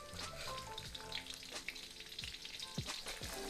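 Egg foo young patties frying in a pan, a steady close sizzle and crackle with occasional scrape and clink of spatulas, no voices.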